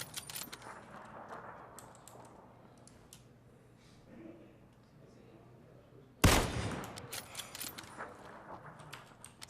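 Gunfire from a convoy in a video game, faint scattered shots at first, then a sudden loud burst and a run of rapid cracks near the end, with no talking.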